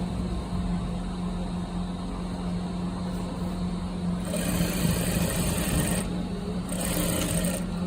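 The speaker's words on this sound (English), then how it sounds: "Then place this one very well and continue your stitching." Sewing machine running steadily while stitching a gown, a continuous close mechanical hum with a denser, louder burst of stitching midway and no talk.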